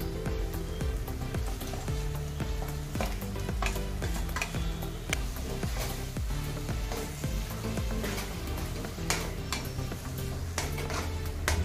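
Marinated soya chunks sauté in hot masala for a restaurant-style curry, giving a continuous even sizzle with small scraping stirs and light pan ticks throughout, close and steady.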